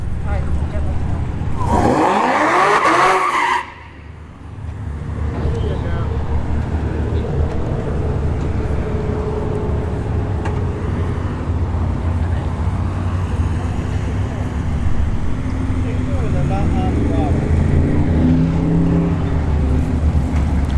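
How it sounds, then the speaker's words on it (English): A ZL1 Camaro at a drag strip gives one loud, brief roaring burst early on, then fades into a steady ambient rumble with faint voices around the track. "Alright, we've got a ZL1 Camaro."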